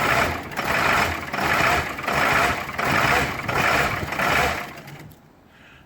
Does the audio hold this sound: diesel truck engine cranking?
yes